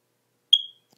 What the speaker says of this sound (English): I think it's this smoke detector.